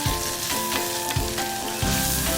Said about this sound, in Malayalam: ഇഞ്ചി, വെളുത്തുള്ളിയുടെ എല്ലാം പച്ചമണം മാറുന്നത് വരെ അതൊന്ന് ഇളക്കി കൊടുക്കും.